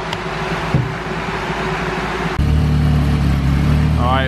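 A turbocharged Honda hatchback engine of over 500 horsepower runs on a dyno, droning loudly and steadily before stepping up into a harder, louder pull with a rising whine at the end.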